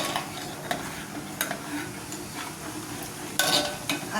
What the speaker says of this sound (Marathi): परत हलवून घेते.